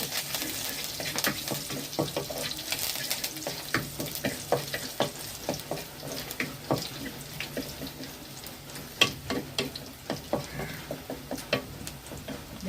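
Ginger frying in a pan as the base for a karal fish curry: a continuous close crackle and sizzle with frequent stirring scrapes and clicks, no speech.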